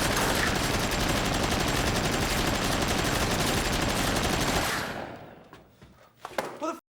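Sustained burst of rapid automatic gunfire in a film, loud and continuous for several seconds, then cutting off abruptly into a few faint scattered sounds.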